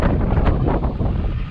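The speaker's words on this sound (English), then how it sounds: "that is so windy, isn't it?" Strong wind buffets the microphone outdoors at a silo wall building site, a loud, continuous roar with gusty rumbling.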